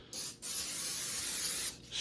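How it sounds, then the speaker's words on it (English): Cooking oil sprays onto a baking pan for biscuits in two close, sharp hissing bursts, the second one long, with a short pause between them. "spray a light coat of cooking oil"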